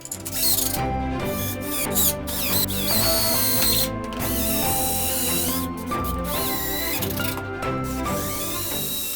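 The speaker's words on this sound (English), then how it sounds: "I will use this bolt to attach the wood on the wall to make it more stronger." A bolt is tightened to fix the wooden frame of a loft bed to a wall, giving repeated ratcheting clicks and mechanical clatter over pitched background music.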